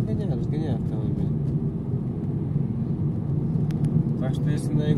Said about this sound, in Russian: Ты разгоняй, разгоняй автомобиль.